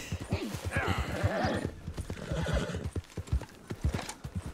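A horse gallops along in the video game Red Dead Redemption, steady clip-clop hoofbeats running throughout, with a loud neigh and whinny near the start and another snort midway.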